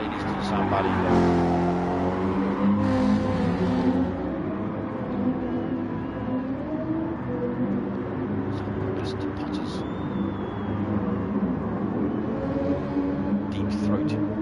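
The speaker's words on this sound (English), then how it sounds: "Deep-throated warble of the Mercedes. It's a lovely sound." Mercedes GT3 race car engine in a racing simulator during a Gr3 event at Catalunya, a steady deep warbling drone held at moderate level under continuous commentary.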